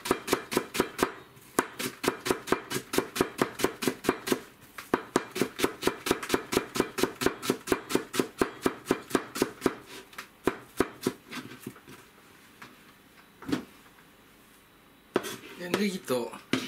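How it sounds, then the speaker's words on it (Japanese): A knife chops green onions on a cutting board in quick, even strokes, a long run of sharp close taps that slows to a few scattered cuts before a short clatter at the end. "あとネギを刻んでます"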